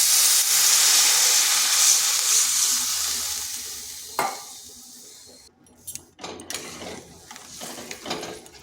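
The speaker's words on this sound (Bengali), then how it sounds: "এরপর দিয়ে দেবো জল।" Water poured into a pan of sizzling spices for a spinach and masoor dal dish: a loud, steady hiss that slowly fades, a sharp clink, then scattered scraping stirs and knocks of a spoon against the pan.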